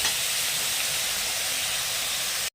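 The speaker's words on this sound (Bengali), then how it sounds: "এই যে চিংড়ি মাছগুলোকে হালকাভাবে ভেজে নিচ্ছি" Prawns frying lightly in hot oil give off a loud, steady sizzling hiss that runs without a break and stops abruptly at the end.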